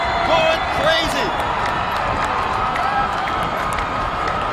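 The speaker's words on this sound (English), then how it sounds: "The crowd going crazy." Crowd at a 2000 Kahuku versus St. Louis high school football game cheering loudly and continuously in the stadium, with a commentator talking over the roar.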